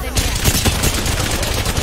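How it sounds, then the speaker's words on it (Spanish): Rapid bursts of gunfire from a multiplayer video game shooter crackle continuously over roughly two seconds, dense and close, with faint voices barely present beneath the shots. "Me están disparando"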